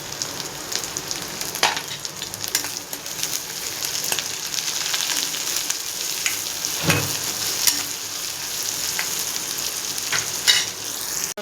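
Carrots and capsicum frying in a pan, a steady close sizzle with faint stirring scrapes throughout and no talking.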